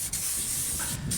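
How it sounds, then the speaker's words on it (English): An aerosol can of copper slip anti-seize sprays onto a car's wheel hub during a front brake job on a Jaguar X-Type, giving close, loud, continuous hissing with a brief break partway through. "I only have a aerosol, so I'm just going to spray it on the..."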